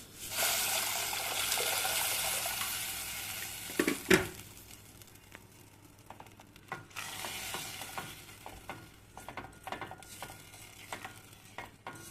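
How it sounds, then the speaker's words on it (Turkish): Butter sauce for a yogurt and vermicelli soup sizzles loudly in a pan for the first few seconds, then a clatter and a pour of water follow before a softer bubbling with scattered clinks, with no voices. "Üzerine de tereyağlı sos yapıyorum. Şöyle kavrulsun."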